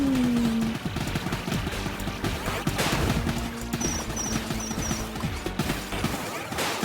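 Gunfire from a newly picked-up gun in the horror roguelike game Cursed Rounds, a steady stream of rapid shots running under game music and effects throughout.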